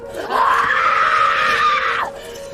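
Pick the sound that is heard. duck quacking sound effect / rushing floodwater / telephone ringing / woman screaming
woman screaming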